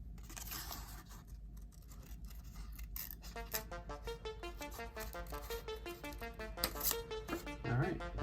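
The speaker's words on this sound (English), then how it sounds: "then you have a hole to put your scissors through. So go ahead and cut out the eye" Scissors snipping through paper while cutting out an eye shape for a spooky pumpkin craft, a steady run of quiet, close crisp cuts and rustles.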